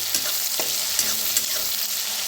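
Peanuts, green chillies and garlic roasting in a pan for thecha, a close continuous sizzle with a few quick stirring scrapes.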